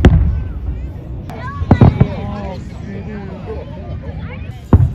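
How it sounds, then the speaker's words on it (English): SeaWorld fireworks burst over Mission Bay on a summer night, sharp cracks and booms landing at intervals, near and loud, while people chatter nearby. "We're watching the fireworks."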